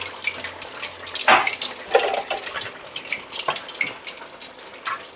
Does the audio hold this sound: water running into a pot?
yes